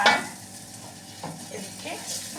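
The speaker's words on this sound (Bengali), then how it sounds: "এদিকে চাল ভাজছি" Rice fries in a pan with a soft, steady sizzle, while quiet scraping and stirring strokes come through at moderate distance.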